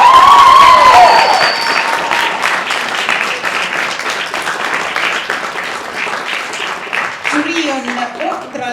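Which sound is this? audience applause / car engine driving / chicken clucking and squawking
audience applause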